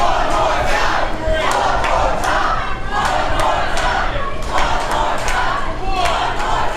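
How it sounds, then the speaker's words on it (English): A loud wrestling arena crowd at a live Friday night show chants and cheers in unison, a dense roar with rhythmic swells and scattered thumps, close and continuous throughout. "Crowd calling for it one more time"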